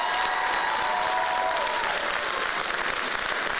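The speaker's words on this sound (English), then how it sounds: "round of applause." Loud, sustained applause with some cheering from a crowd at a school gun-control rally, thanking visiting student activists from Florida.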